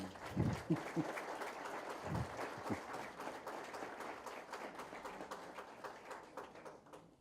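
An audience at a book launch gives a round of applause for Gandhi, a fairly faint, steady patter of many hands heard from a distance, with a few low thumps near the start that fade gradually toward the end.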